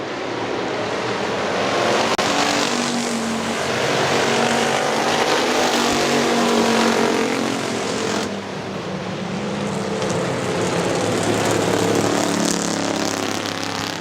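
Factory stock race cars roar past together at Hartford Speedway, a loud, continuous wall of engine noise that swells as the pack goes by, with a brief dip before the next surge.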